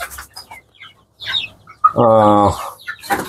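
Native chickens on a farm cluck in short bursts, then one bird lets out a loud, sustained harmonic squawk, with scattered faint voices around it.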